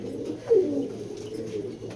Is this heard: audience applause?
no